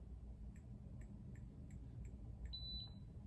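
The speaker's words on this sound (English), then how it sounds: "And one beep means we're good." A single short, high-pitched electronic confirmation beep from an iCare Home tonometer near the end, preceded by faint, evenly spaced ticks over a low steady background hum.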